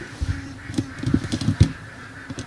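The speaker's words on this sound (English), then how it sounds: "the chickens and ducks are making a lot of noise right now" Scattered honks and squawks from chickens and ducks, irregular and fairly close, calling over a quiet outdoor background.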